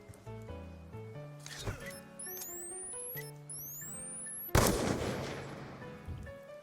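A .22 rifle firing at an outdoor gun range, a few sharp shots, the last one loudest, amid music-like background sounds and rising whistling tones.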